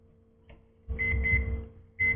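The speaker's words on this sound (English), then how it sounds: "Our 10-minute timer has beeped." Electronic timer beeping in repeated short tones over a low rumbling hum, stopping briefly then starting again.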